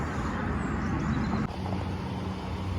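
A car drives slowly forward with a steady, close engine and road rumble that continues throughout.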